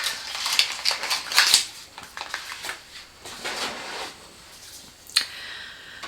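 A knife slices through a tightly taped packet of makeup, giving close crinkling, scraping and small clicking bursts spread over several seconds, with a few sharper taps and no talking.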